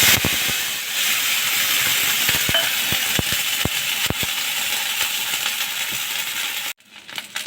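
Hot oil tempered with panch phoron and dried chilli hisses and sizzles steadily after a splash of water goes in. The sizzle stays loud and broadband, with scattered sharp pops and crackles, then cuts off abruptly near the end.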